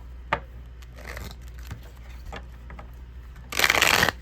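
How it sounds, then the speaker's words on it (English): Soft tarot card handling with small taps and rustles, then a brisk riffling shuffle near the end, close and fairly loud. "I just want to shuffle here"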